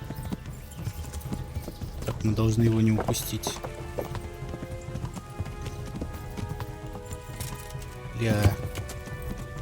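Horse hooves clip-clop at a gallop in Kingdom Come: Deliverance, a steady drumming run under a voice, with a louder burst of hoofbeats and snorting near the start and end.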